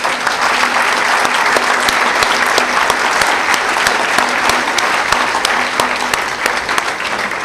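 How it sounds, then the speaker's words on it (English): Loud, sustained audience applause after a presentation at a spiritual event, dense steady clapping from a large crowd that lasts the whole stretch without letting up. "to give him a big round of applause"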